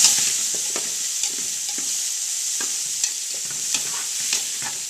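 Four onions fry for a lamb tajine, giving a steady bright sizzle up close with soft intermittent stirring clicks and scrapes, no voices.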